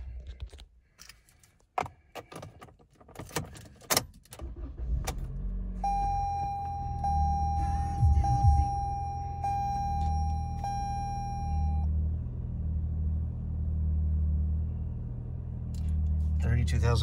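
A 2021 Toyota Camry LE starting up after a few clicks and knocks, the engine catching and then idling as a low, steady rumble that continues to the end, with a brief electronic chime during the start.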